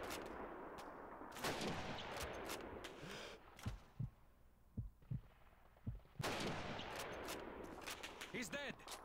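Sniper rifle shots in the World War II shooter Call of Duty 2, with several sharp, isolated cracks spaced a second or so apart amid battlefield ambience and shouted voices.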